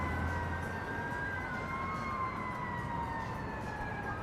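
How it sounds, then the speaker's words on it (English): A fire engine or ambulance siren wails as it passes on a Miami street, its rising and falling tone gliding over steady traffic rumble at a moderate distance. "Sounds like the fire department is coming by."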